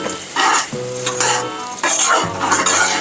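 A spoon stirs stuffing mix in a pot on the stove in loud, close scraping and clinking strokes with a light sizzle, several bursts over about three seconds and no talking.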